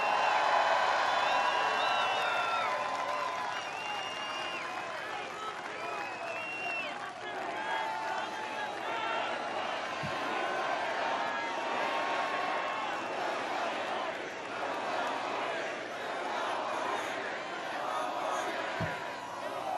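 A large crowd at a Donald Trump campaign rally in Manchester, New Hampshire, cheers and shouts continuously, a dense roar of voices filling the hall, with whistles and scattered claps.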